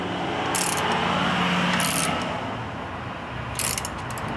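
Ratchet wrench lightly snugging intake manifold bolts on a Ford 2-valve 4.6 engine: steady close clicking pawl sound in short bursts, with brief louder metallic rattles between strokes.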